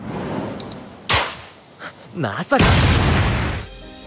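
A bomb blast in an anime fight scene, a sharp burst followed by a sweeping whoosh and a heavy roaring explosion that rumbles on, loud and close, mixed with other effects.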